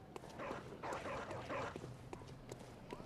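Dogs in a video game give yips, barks and whimpers in several short bursts, quiet and mixed into a dense game soundscape with ticking clicks and background rumble.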